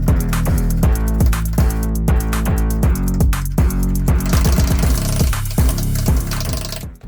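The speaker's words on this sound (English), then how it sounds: "with the CV nut off, and we'll remove those 3 bolts" Three bolts being removed from the wheel hub of a Duramax-swapped Camaro make a loud, continuous mechanical whir with rapid rhythmic hammering pulses close by. The noise runs throughout and cuts off at the end.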